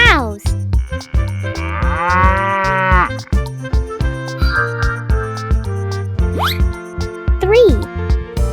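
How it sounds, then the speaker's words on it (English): Two cows moo loudly and close, with long drawn-out lowing calls between short bursts of music and other sounds in a counting song for children about farm animals. "2 cows."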